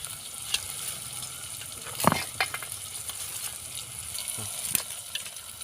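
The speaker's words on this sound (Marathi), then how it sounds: "आता गदगद हे टमाटर टाकले गदगद शिजू द्यायचे" Two chopped tomatoes cook in oil in a pan on a wood-fired stove for dal bhaji, with a steady close sizzle broken by a few sharp scrapes and clinks as they are stirred.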